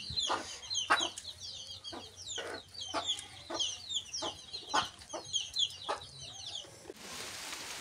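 Chickens in a rural village yard make repeated short clucks and chatter, close and moderately loud, in an irregular rhythm over a quiet background that ends in a soft hiss.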